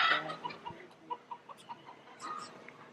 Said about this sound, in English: at this colorful rooster.